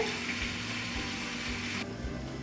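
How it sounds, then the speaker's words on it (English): Water drained from a can of tuna pours steadily for about two seconds, then the flow cuts off abruptly, leaving a quieter trickle. "Drain the water."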